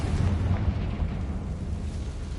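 Confringo spell explosion in the Hogwarts video game, a deep rumbling blast that swells at once and slowly fades over a couple of seconds, heard alone without talk.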